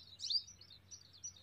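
Small black and blue sparrows call near their nest with thin, high chirps and a brief twittering burst, faint against a quiet low hum with no one speaking.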